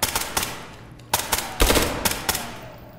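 Automatic gunfire in the SCP: 5K shooter game, several loud crackling bursts of rapid shots with echoing tails, close and irregularly spaced over about three seconds.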